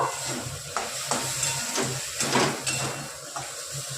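Chicken masala with a spoonful of Kashmiri chilli being stirred in a hot pan, a steady sizzle and hiss with soft scraping strokes of the spoon repeating every half second or so.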